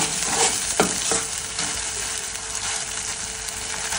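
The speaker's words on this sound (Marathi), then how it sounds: "मस्त अशा प्रकारे पनीरची भाजी एकदम मस्त फ्राय करा।" Paneer curry frying in a pan, a steady close sizzle with a few stirring scrapes and knocks in the first seconds, continuing alone without talk.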